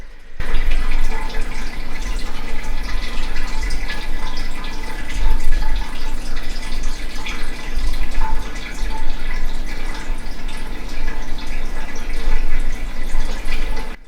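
Water runs and bubbles steadily in a fish tank, a loud, continuous splashing trickle that fills the whole stretch with no voices.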